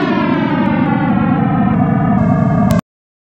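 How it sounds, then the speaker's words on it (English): A sonification of the early universe's first ten million years after the Big Bang, built from very low-frequency plasma vibrations: a loud, steady, droning roar with rich stacked harmonics that holds without pause and then cuts off abruptly. "This is the sound of the Big Bang."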